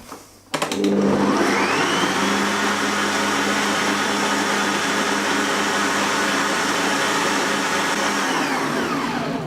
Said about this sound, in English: into the blender, and now we're going to have a little blitz